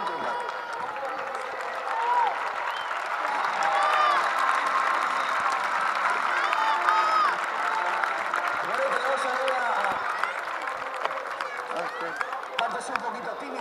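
A crowd applauds a parachutist's landing at a skydiving event in Tarazona, clapping swelling and holding steadily with scattered voices and shouts mixed in, moderately distant.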